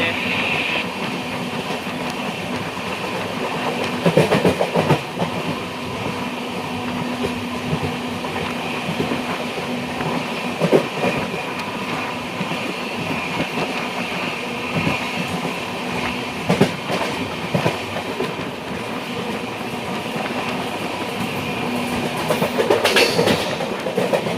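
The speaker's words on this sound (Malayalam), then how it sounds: "നമ്മുടെ ട്രെയിൻ ഇപ്പോൾ തൃപ്പൂണിത്തറ സ്റ്റേഷൻ സ്കിപ്പ് ചെയ്യുവാണ്" Ernakulam–Velankanni Express runs on rails past Thrippunithura station, a steady loud rumble with rhythmic clickety-clack of wheels and occasional rattles, heard from inside the second-class carriage.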